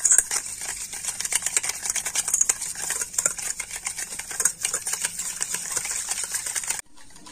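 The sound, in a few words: whisking sour yogurt with sugar in a bowl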